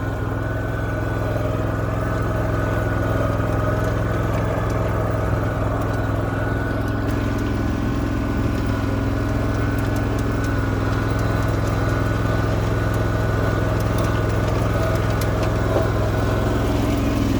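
A tractor engine runs steadily while driving, hauling a Honda HRX217 lawn mower on a MaxxHaul cargo carrier, with a continuous loud low rumble and no talk.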